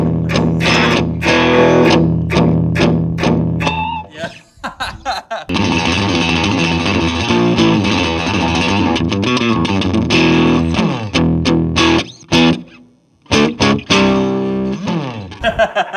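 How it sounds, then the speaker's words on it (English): An early solid-body electric guitar played through heavy distortion, loud and sustained with chunky chords and ringing notes, breaking off briefly in places. "Do you think Les could imagine his guitar being played through so much distortion like that?"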